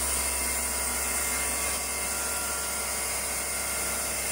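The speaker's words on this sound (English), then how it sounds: "It's just doing a little pecking cycle of the drill in there." A FANUC CNC drill-and-tap centre pecks a drill into aluminium, giving a steady, loud high-pitched machining whine with a constant hum underneath and no break across the stretch.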